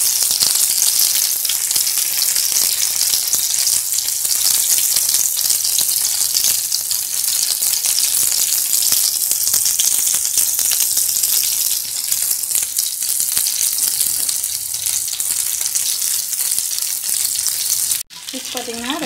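Ayala, Indian mackerel, fries in oil with a loud, continuous, close hiss and crackle of bubbling fat that holds steady throughout, with a brief break near the end.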